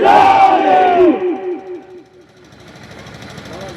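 A crowd at a religious jalsa shouts back Takbir, Risalat and Haidari slogans after a leading voice calls them, loud voices in rhythmic bursts that then settle into a diffuse murmur of the gathering.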